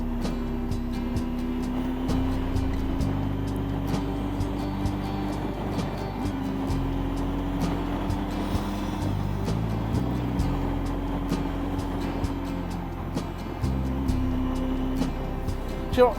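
A Triumph Tiger motorcycle rides down a mountain road, its engine droning steadily with shifting pitch as gears change, under persistent wind buffeting and occasional clicks.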